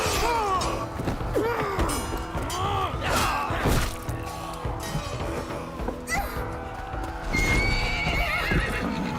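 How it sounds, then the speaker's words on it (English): A horse in Assassin's Creed Valhalla whinnies repeatedly while its hooves thud and clop in a gallop, loud and close, with crashes and impacts mixed in and no clear talk. "Down, horsey!"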